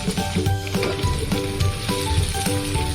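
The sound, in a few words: onion paste frying in a pan for palak paneer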